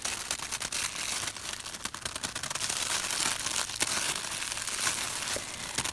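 Small plastic bags holding bracelets and necklaces being handled in a belly dancing shop, giving a steady close rustling crinkle with sharp crackles throughout and no voices.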